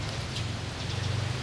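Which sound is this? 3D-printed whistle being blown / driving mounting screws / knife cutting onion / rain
rain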